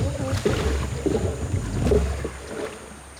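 Paddles dip and stroke through the water in a steady rhythm as a three-person canoe moves along, close by, with a light wind rushing in the background.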